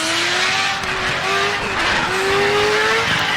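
Race car in the RaceRoom Racing Experience sim sliding sideways, a steady engine drone with a rising and falling pitched whine as the tires skid, loud and continuous with no talking.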